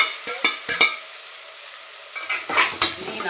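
A spoon stirs sautéed tomatoes with ginger garlic paste in a pan, scraping and clinking against the metal over a steady background sizzle, close and moderately loud with no talking.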